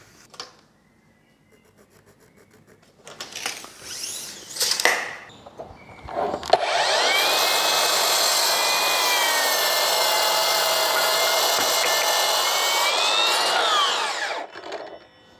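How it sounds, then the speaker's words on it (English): Power saw cutting several wooden slats to length together for a simple bench, handling knocks first, then a loud sustained whining cut lasting about eight seconds before the blade runs down. "put them in the saw together and cut them off"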